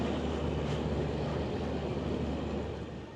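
A slow passenger train in India rolling along, a steady broad rumble and rail roar filling the whole stretch and easing slightly at the end, with no talk.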